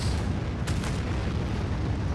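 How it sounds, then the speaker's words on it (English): A nuclear missile explosion in the video game Anno 2205, a loud sustained low rumbling roar that fills the whole stretch without letting up. "Nuclear missile."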